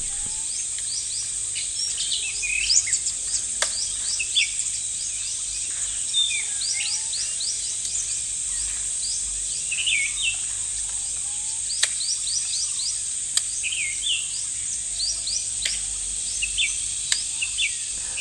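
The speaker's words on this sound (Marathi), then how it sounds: "पक्ष्यांचा आवाज येत होता." Outdoor ambience in the Sahyadri hills beside green rice paddies, with repeated bird calls and chirps scattered throughout, over a constant high insect drone.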